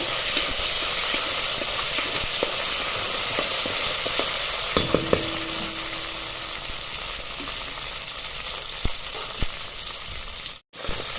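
Green chillies sauté in an open pan with a steady, close, broadband sizzle, broken by a few sharp scrapes and clinks of a spatula stirring them, with no talking.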